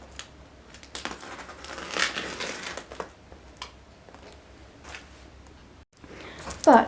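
A parcel box wrapped in heavy packing tape is handled up close, giving soft crinkling and crumpling rustles in scattered bursts with brief pauses, ending in a louder crinkle.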